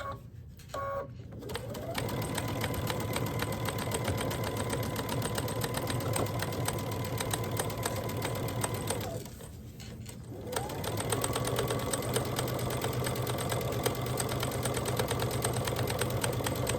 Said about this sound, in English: Then I'll start stitching and I'll stitch it in place.